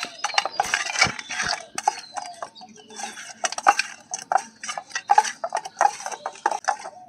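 Whole tangra fish are rubbed with mustard oil by hand in a metal bowl, giving busy, close clinks, scrapes and wet knocks in an uneven, continuous rhythm, with no voices.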